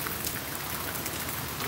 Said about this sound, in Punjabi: ਗੜੇ ਪੈ ਗਏ ਅੱਛਾ ਗੜੇ ਪੈ ਗਏ ਇੱਧਰ ਪੈ ਗਏ